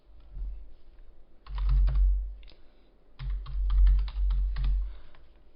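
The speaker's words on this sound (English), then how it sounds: "Type the password." Computer keyboard clacking as a password is typed, two quick bursts of keystrokes separated by a pause, close and distinct with no talking.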